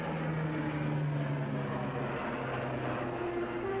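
Lockheed Electra propeller airliner engines droning steadily, a moderately loud, even hum with sustained tones that hold throughout and no voices.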